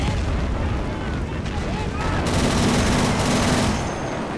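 Dense, continuous battle din from the game Men of War Assault Squad 2 in a Tank Graveyard fight, with steady gunfire and artillery rumble blending into a loud, unbroken roar while someone talks over it.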